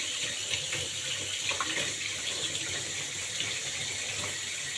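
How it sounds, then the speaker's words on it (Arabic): Water runs steadily from a kitchen tap as someone washes their hands, a constant close hiss and splash with no pauses. "اغسل بس ايدي"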